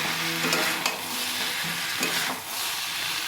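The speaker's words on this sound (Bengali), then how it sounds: "ভেজে রাখা ডিমগুলো আমি দিয়ে দিচ্ছি, যাতে একসঙ্গে ভালো করে কষাতে পারি।" Fried eggs are stirred and sautéed in a pan of curry masala, a steady close sizzle with a few brisk scraping strokes of the spoon against the pan, fairly loud and without speech.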